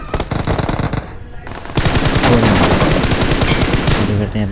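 Automatic gunfire in the mobile battle-royale game PUBG Mobile, with MG3 and sniper weapons in play, rattles in loud sustained bursts, then a brief lull before a denser, continuous stretch of rapid shots.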